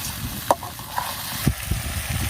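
Mutton curry being stirred as it fries in a pan, with a few distinct scraping clacks of a spoon against the pan over a soft, steady sizzle.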